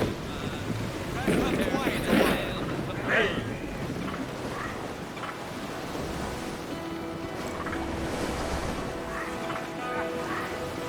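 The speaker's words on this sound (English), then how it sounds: "The winds are too strong!" Strong wind and waves surround a schooner at sea in the pirate game Assassin's Creed Black Flag. There is a steady rushing roar of wind and water with sharper splashes and creaks early on, and voices shout over it.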